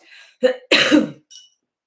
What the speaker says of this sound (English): the coughing has begun